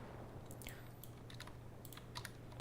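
Quiet, irregular clicks of typing on a computer keyboard, several short bursts of keystrokes at close range over a low steady hum, with no talking.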